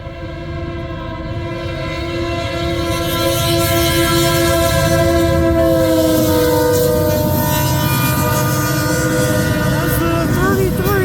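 A CN freight train led by a rebuilt AC44C6M locomotive rolls past southbound at Ladysmith, Wisconsin, its horn sounding in long, loud, steady blasts over continuous rumbling wheel and engine noise.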